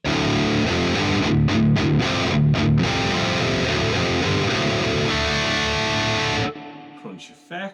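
A crunchy, distorted electric guitar through a Quad Cortex crunch patch plays dense chords, loud and steady, then cuts off abruptly, leaving a few faint small noises.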